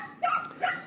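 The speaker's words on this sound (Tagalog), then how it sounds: "Maingay po yung aso namin." A household dog in a backyard lets out two quick sharp barks close by, short yips spaced under a second apart.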